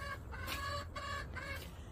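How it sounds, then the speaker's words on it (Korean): Hens clucking in short repeated bursts with a rooster among them, fairly close, over a low steady background hum. "이거 수탉 봉이가 안태색시를 괴롭히네요."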